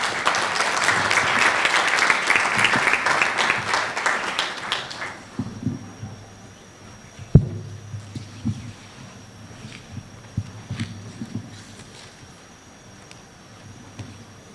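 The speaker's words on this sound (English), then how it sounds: "A round of applause for Dr. Edith." Audience applause at a university graduation ceremony in Africa: loud, dense clapping for about five seconds that drops away abruptly, leaving a quiet hall with a few scattered knocks and stray claps.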